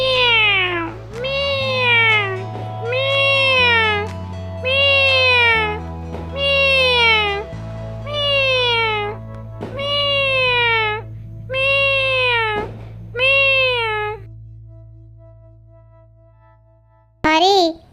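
A cartoon cat in an Odia animated story gives eight drawn-out, swooping meows in a steady sequence over a low, sustained music drone, each loud and close, ending with a short burst of sound.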